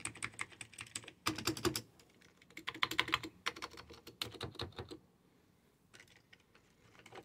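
Bursts of fast clicky typing on an XD6600 keyboard, close and fairly quiet, coming in several quick runs broken by short pauses, with no talking.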